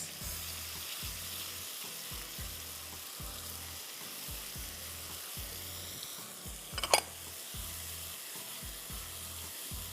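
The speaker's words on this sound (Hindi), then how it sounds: "ज़रा सा भून लें ताकि अदरक लहसुन और मसाले का कच्चापन ख़त्म हो जाए" Leftover ginger, garlic and spice marinade fries quietly in a pan, a faint steady sizzle with soft regular stirring pulses and one sharp clink near the end.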